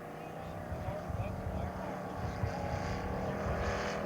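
A scale model aircraft engine taxis out with a steady, buzzing propeller drone that stays even in loudness throughout, with faint background noise around it.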